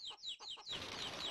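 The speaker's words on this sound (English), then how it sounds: "This is the chickens." Chickens in the video game Chulip cluck in a quick run of four sharp, close calls, followed by a denser burst of clucking and rustle.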